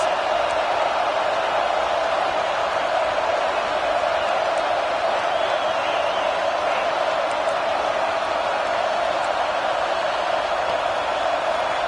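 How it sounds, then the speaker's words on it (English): A stadium crowd roars continuously at a football game, a dense, steady wall of cheering and noise that holds at full volume throughout without breaks. "Listen to this crowd just shaking the girders of this place, trying to help their defense."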